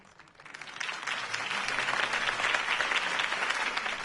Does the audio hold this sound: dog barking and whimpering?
no